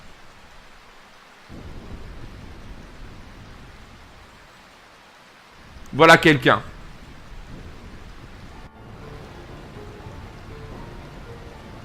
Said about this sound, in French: Cette pluie n'est-elle pas fantastique?